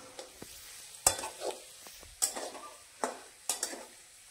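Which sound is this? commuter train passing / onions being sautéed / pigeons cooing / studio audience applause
onions being sautéed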